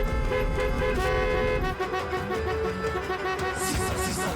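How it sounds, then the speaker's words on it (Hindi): Car horns toot repeatedly from vehicles moving together in a wedding-style procession, several overlapping honks sounding close and loud, some long and some short, over traffic noise. "हॉर्न क्यों बजा रहे हैं?"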